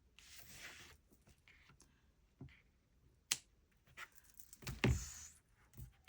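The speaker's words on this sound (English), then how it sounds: "Cut our little triangle." Scissors cutting a small paper triangle for a junk journal cover, heard as faint, quiet snips and crisp paper rustles scattered across an otherwise hushed room, with no talking.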